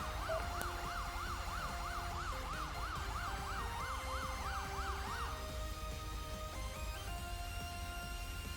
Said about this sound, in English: Ambulance is en route.